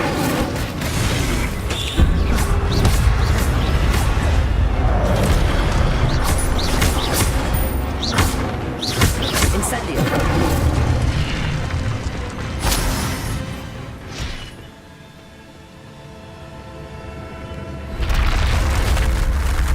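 Casting the Incendio fire spell in Hogwarts Legacy sets off a dense run of loud booms and crackling bursts that keep going for many seconds, drop away briefly, then come back.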